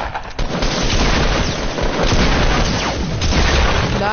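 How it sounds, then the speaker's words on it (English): Dense video game combat with grenade blasts booming over continuous rapid gunfire, loud and close, filling the whole stretch without pause. "Nades, and more nades."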